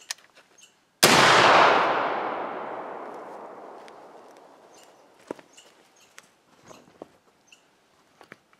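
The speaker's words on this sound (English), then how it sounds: "Now I'm going to cap it and fire it" A muzzle-loading gun, capped and fired with an over-powder patch load, lets off one loud close blast that rings and decays over several seconds, followed by faint scattered clicks and small handling noises.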